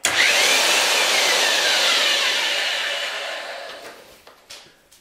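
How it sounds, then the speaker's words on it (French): A screw pile machine built from two chained 120-volt Milwaukee 1854-1 drills gives out a loud, steady motor whine. It runs near and continuous, then slowly winds down, and a few knocks are heard as it stops. "La machine est constituée de 2 perceuses Milwaukee modèle 1854-1 à 120 volts, couplées l'une à l'autre par une chaîne."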